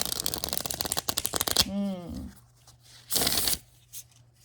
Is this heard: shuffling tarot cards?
yes